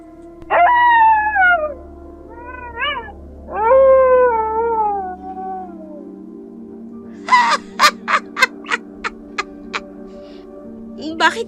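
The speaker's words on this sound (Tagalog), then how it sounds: "Bakit biglang umalulong ulit yung mga aso?" Long, wavering dog howls rise and fall, followed by a rapid series of sharp, rhythmic barks.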